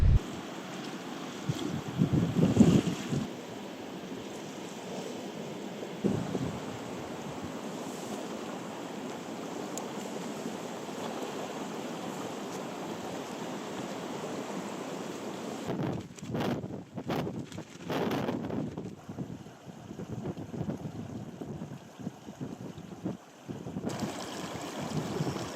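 Breezy wind blows across a riverside camp spot in the Mourne Mountains, a steady low rush with stronger gusts and flapping bursts toward the middle, occasional handling noise near the microphone.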